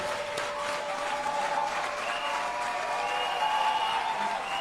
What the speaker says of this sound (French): Est-ce qu'on peut les acclamer, s'il vous plaît?